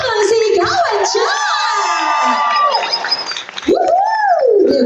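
Guests at an 80th birthday party cheer and shout together, an excited chorus of voices with whoops and some clapping, loud and continuous, briefly dipping near the end before rising again.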